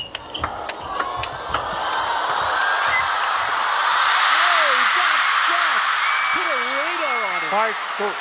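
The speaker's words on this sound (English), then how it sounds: "Crowd getting really into this." A table tennis crowd in Chongqing roars and cheers during a round-of-16 match between two players, the loud sustained crowd noise swelling under a commentator's voice, with whoops and sharp ball pings early on.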